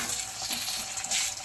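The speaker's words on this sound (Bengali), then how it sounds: "এই যে আমার মেয়ে ডিম আর পেঁয়াজটা এবার একসাথে একটু ভাজা ভাজা করে নেবে।" Egg and onion fry together in a pan while being stirred, a close, steady sizzle broken by soft scraping, with no voices.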